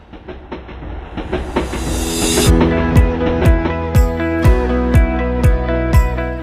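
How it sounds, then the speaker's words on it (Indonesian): The Cut Mutia pioneer passenger train runs on rails in Aceh, with a rising hiss, then loud rhythmic clickety-clack wheel beats over rail joints repeating steadily and close, with no talking. "Di sini, kita dapat menikmati layanan kereta api perintis Cut Mutia."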